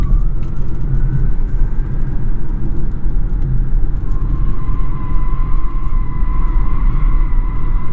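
An electric car accelerating hard up a clean highway on-ramp, a steady loud roar of road and tire noise with a faint rising whine, continuous throughout with no talk.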